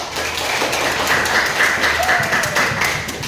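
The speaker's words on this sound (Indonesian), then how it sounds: "Tepuk tangan dulu dong untuk kita." A group in a classroom coaching session claps together, a steady patter of many hands close by with voices murmuring underneath.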